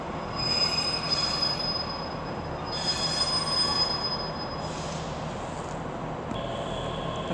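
ScotRail Class 385 electric unit 385009 pulls into Glasgow Queen Street on a terminating service from Cumbernauld. Its wheels squeal in sharp, high, sustained tones over a steady rolling rumble, close by and fairly loud.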